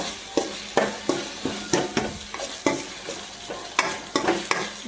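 Onions frying in a pan for egg bhurji, with a continuous close sizzle punctuated by about a dozen regular spatula scrapes and stirring strokes, and no talking.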